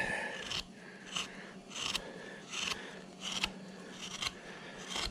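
Wood carving with a U-shaped gouge, roughing out a bandsaw-cut cowboy figure: repeated close crisp scraping cuts in uneven bursts, each slice a short rasping crunch followed by a brief pause.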